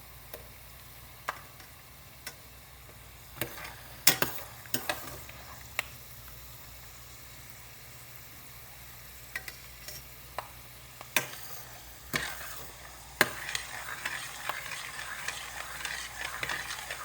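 Mixed cereal chevdo stirred in oil over a low flame, with a soft, steady sizzle under repeated scraping and clinking strokes of the spoon against the pan, the strokes becoming denser toward the end.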